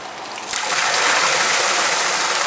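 A water-powered karausu mortar, a wooden hammer used to crush clay for pottery, fills as a steady rush of splashing water swells after a soft knock. The flow then keeps up a constant, close gush.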